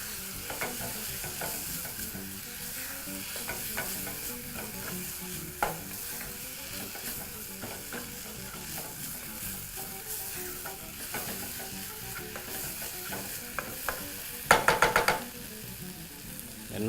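Chopped onion stirred and frying in a pan after the liquid has cooked off, a steady close sizzle broken by scraping and occasional utensil knocks, with a brief clatter near the end.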